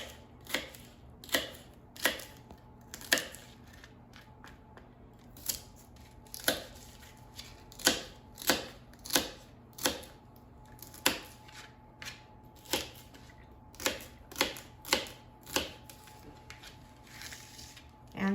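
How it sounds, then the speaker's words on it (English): A kitchen knife cuts celery into small pieces, giving a run of sharp, crisp chops in an irregular rhythm with short pauses, close and fairly loud against quiet room tone. "you can slice it lengthwise and then just cut it into small pieces"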